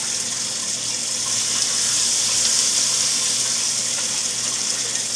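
Kitchen tap water pours steadily into a sink while pieces of food are rinsed under it, a loud, close, even rush with no talk.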